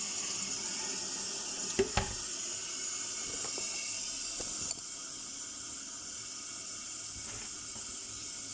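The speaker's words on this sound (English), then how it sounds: "I'm going to rinse the salad and rinse the tomatoes." A kitchen tap runs steadily as salad and tomatoes are rinsed in the sink, giving a constant close hiss of water with a few soft knocks and splashes and no talk.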